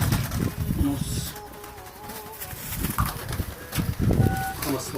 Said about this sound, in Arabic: الحمام بيطلع فوق زي ما انتم شايفينه، بيخش على الفخار اهو